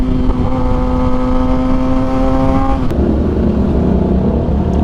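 Motorcycle engine running steadily during a ride on a toll road, a loud continuous drone with a harmonic hum that drops in pitch partway through as the rider eases off, with no talking.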